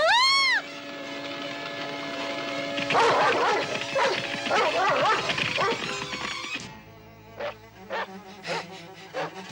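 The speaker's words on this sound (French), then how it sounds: "Le chien a flairé sa trace." A cartoon tracking dog barks in a rapid run of short yelps amid busy animated sound effects, with a burst of bright tones at the start and a quieter stretch of clipped barks toward the end.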